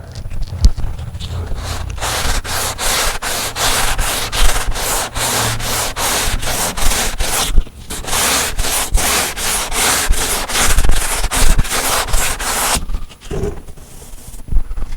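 Hand sanding a car body down to bare metal, with repeated rhythmic abrasive strokes that are loud and close and run almost without a break, pausing briefly partway through and again near the end.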